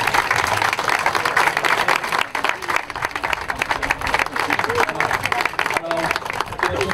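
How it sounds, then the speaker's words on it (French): Audience applause fills a room at a French-language local celebration honouring a woman, steady dense clapping running loud and continuous throughout with some voices mixed in. "On peut applaudir à Suzette."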